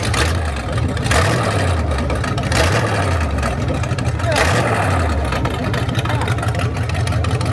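A 1931 Ford coupe with an old cast-iron engine, running loud and uncorked, its steady rumble with rhythmic low pulsing filling the clip up close.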